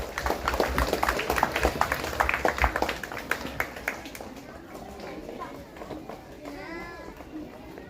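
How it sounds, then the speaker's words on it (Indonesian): A crowd claps through a school-level sports and arts festival opening ceremony held at a junior high school, dense and lively at first, then thinning into scattered claps, with children's voices and chatter around it. "tepuk tangan yang meriah"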